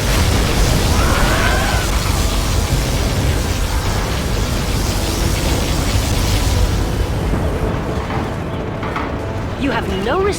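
Particle cannon strike and explosions in the real-time strategy game C&C Generals Zero Hour, a dense continuous rumbling blast wash with scattered bursts, loud and sustained throughout, with faint game voice lines mixed in.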